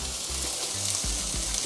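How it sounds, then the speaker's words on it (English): One large finely chopped onion sizzling in extra virgin olive oil in a skillet, a steady hiss with occasional low clinks and scrapes of a utensil against the pan, fairly quiet and without talk. "Yeah, it's a nice sizzle."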